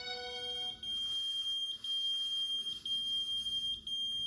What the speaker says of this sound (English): The sound of a pager going off in the grass a few feet from the victim.